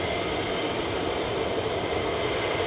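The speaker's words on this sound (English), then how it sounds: "a KC-135 AAR air-to-air retanker, air-to-air refueler" A KC-135 air-to-air refueling tanker makes a steady, dense jet rumble at moderate distance, continuous and unbroken across a brief stretch with no voices.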